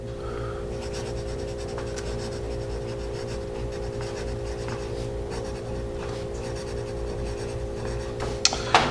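A carpenter's pencil scratches across paper in steady, close strokes, with a faint electrical hum underneath and a couple of small taps at the end.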